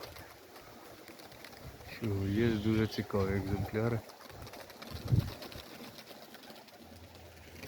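A flock of pigeons coos in layered, overlapping low calls for a couple of seconds, then fades; someone speaks before and after, and the birds sound fairly close.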